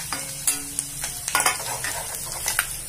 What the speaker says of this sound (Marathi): हे बघा लसूण टाकतोय. खोबऱ्याचे काप केलेले ते पण टाकतोय आपण आता.